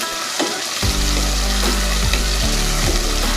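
Potatoes with salt and turmeric fry in a pan, a loud, close sizzle with a hum and a few sliding, scraping stirs. The first split second is quieter before the frying starts.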